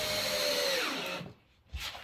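A power drill drives a screw into a chipboard joist during an upstairs floor build, a close whirring run that winds down, then a brief quiet and a short final burst.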